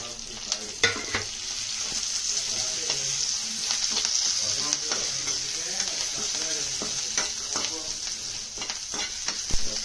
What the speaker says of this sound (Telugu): నూనె కొద్దిగా కాగాక కరివేపాకు వేసేయండి.